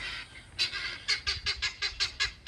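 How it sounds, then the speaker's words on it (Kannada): A fowl calls in a quick run of about nine loud, honking cries, fairly close, after a short quieter stretch. "ಇವು ಕೋಳಿ ಇವು ಯಾವ ಕೋಳಿ ಅವ ಗೊತ್ತಿಲ್ಲ, ಹ್ಯಾಂಗೆ ಸೌಂಡ್ ಮಾಡ್ತಾರೆ."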